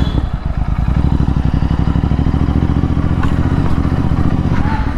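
A Royal Enfield GT 650 motorcycle idles loudly and close by on a Hyderabad street, a deep, fast, even thump with a faint clatter running under it, and no voices on top.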